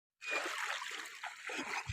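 Floodwater gushing and splashing as it passes beneath a village road, a close, continuous rush of moving water that starts abruptly and carries on with bubbling surges.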